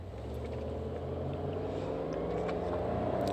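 A truck rolls past outdoors with a steady, loud engine rumble and broadband road noise that swells slightly toward the end, no voices over it.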